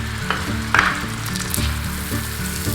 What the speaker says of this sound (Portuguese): A manteiga derrete rapidinho e começa a ferver